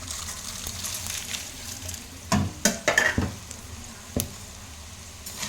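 Roasted poha (flattened rice) being stirred in a pan with chilli powder, giving a run of close scraping, rustling strokes in the middle of the clip and one more stroke near the end over a quiet background.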